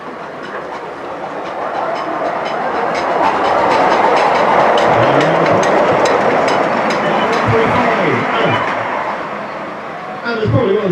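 A small steam locomotive on a light railway rumbles past close by at a gala, wheels clattering rhythmically as the roar swells and fades, with a voice speaking briefly near the end.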